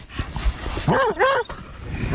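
An avalanche rescue dog on Snowmass Mountain, Colorado gives a few short, close yips and whining barks in quick succession, set against a background of muffled noise.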